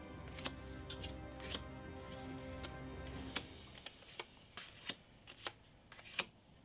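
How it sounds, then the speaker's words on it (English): Harry Potter board game reward cards are shuffled, then drawn one at a time and set down on a table with crisp, close ticks and light snaps of card stock. "Then we need to draw 8 cards from the reward deck and place them out randomly around the favorite card."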